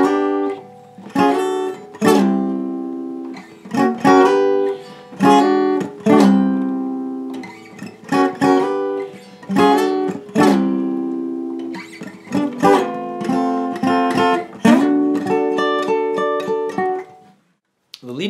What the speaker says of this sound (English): Bridge section for the lead guitar sounds like this.